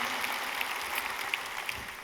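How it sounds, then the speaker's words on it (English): Audience applause at an agricultural technology keynote, a dense, steady wash of many hands clapping with a few sharper claps standing out, moderately loud and with no voices over it. "I want everyone just to give you another round of applause"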